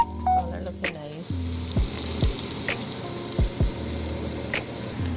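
Vegetables, including chickpeas and potato, sizzle steadily while frying in a pan, with a few sharp stir or scrape hits, all fairly close and alone without talk.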